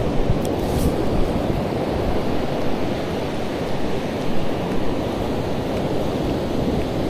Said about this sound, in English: There's some big waves out there still. It's still 6 or 7 footers easy.